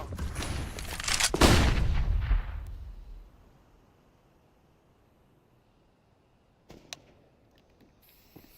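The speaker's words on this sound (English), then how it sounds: "I'm throwing a flashbang." A flashbang grenade goes off in a shooter video game with a loud, close burst that rumbles and fades over about two seconds, followed by near silence and a few faint clicks later on.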